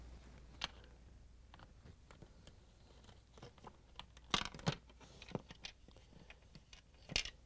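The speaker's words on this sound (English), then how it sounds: "We're going to use the Phillip screwdriver to take out the screws that hold them in." A Phillips screwdriver backs screws out of the rollers on a GE refrigerator crisper cover. Faint, close, scattered clicks and small scraping crunches come and go over near silence, with a couple of sharper clicks toward the end.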